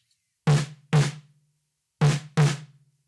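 Four sharp snare drum hits in two quick pairs, crisp and close with a short ringing tail, alone with no talking, picked up by a small-diaphragm condenser top mic.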